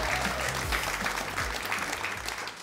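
A live audience gives a comedy improviser a warm round of applause, a thick, continuous wash of many hands clapping close and loud throughout.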